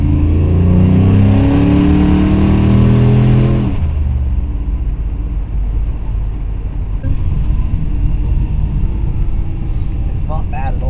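A car engine under full throttle, pulling hard from about 1,500 RPM as a loud, rising roar heard from inside the cabin. It then settles into a steady rumble with road noise.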